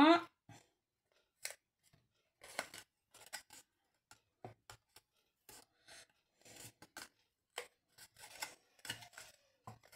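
Scissors snip through paper for a homemade chocolate box craft, a series of quiet, close, irregular cuts and rustles, with brief pauses between them.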